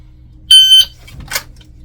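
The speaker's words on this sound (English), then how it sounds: "we're going to set the first timer for 3 seconds" A shot timer gives one loud, steady electronic beep lasting about a third of a second, followed by a brief fainter rustle, during a drill drawing a handgun from appendix concealment.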